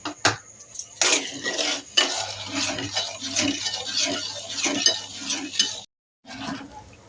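Semolina roasting in ghee for shira in a home kitchen, with a soft continuous sizzle under repeated scraping and stirring of a spoon against the pan, close and fairly busy, with a brief pause near the end.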